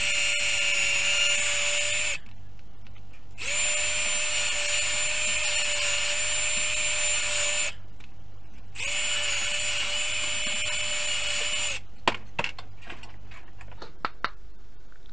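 A power drill bores holes through a wooden board, running in three long whining bursts separated by short pauses, then a few clicks and knocks at the end, close and loud with no speech.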